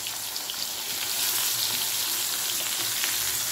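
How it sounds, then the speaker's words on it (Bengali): Pumpkin frying in a pan on a home stove, a loud continuous sizzle with faint stirring, steady throughout and without talk. "সেজন্য আমি মিষ্টি কুমড়াটা ভাজি করতেছি"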